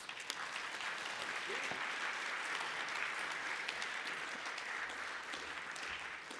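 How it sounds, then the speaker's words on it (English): Steady applause from a conference audience thanking a panel of speakers at a tech talent event, dense and even throughout with no break, sounding from a moderate distance in a large room. "Can we have a round of applause for our panelists?"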